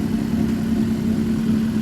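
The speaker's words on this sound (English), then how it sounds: "So the idle sounds nice." A Jaguar F-Type with a catless, straight-piped exhaust idles nearby, a steady loud low rumble with an even burbling pulse and no change in pace.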